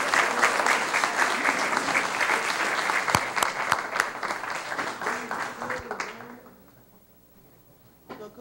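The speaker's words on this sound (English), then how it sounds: "Let's give them another round of applause" A school board meeting audience gives a round of applause to national chess champions. The clapping is loud and dense for about six seconds, then fades quickly, leaving a few scattered claps near the end.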